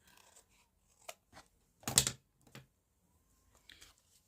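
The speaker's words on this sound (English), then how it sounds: "Don't want to completely gum up my scissors." Scissors snipping through glue-smeared material in a crafting session, a few quiet isolated cuts with one louder crisp snip in the middle, close and otherwise near silent.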